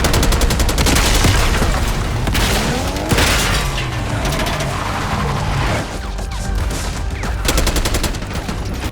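Heavy gunfire in Call of Duty Black Ops 6, with dense, sustained bursts of automatic fire, booms and crashes that keep going loud and close throughout.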